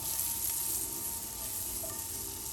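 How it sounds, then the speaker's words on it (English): Butter sizzles and crackles steadily in a hot pan, a constant soft frying hiss with no talking. "Make it sizzle, y'all."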